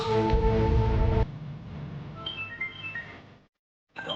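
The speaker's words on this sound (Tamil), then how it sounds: "இப்போ இவங்க ஃபோன் பண்ணுதுடா" A telephone rings loudly in a scene from a Tamil TV drama: a bright, tonal ring lasting about a second, followed by quieter indistinct sounds, a brief silence and a return of faint noise.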